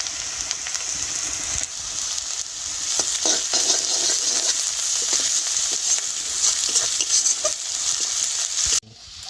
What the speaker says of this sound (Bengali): পেঁয়াজটা হালকাভাবে ভেজে নিয়েছি। এবারে দিয়ে দেবো আদা,